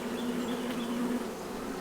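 Honey bees buzz steadily inside a hive as young bees emerge from their cells, a continuous close drone with a sustained hum throughout and no talking.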